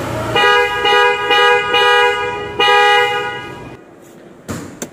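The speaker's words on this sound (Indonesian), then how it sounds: "di bagian depan kita juga pasangin klakson" Loud electric horn fitted to the front of a Toyota Fortuner GR Sport, sounding in several bursts of a bright, harmonic honk with short gaps, close and dominant throughout.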